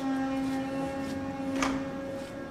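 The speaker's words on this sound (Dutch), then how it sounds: "je hoort alleen maar die pomp nou draaien" An electric pump runs at a quiet, emission-free construction site depot, producing a steady, moderate hum with a constant tone and no speech.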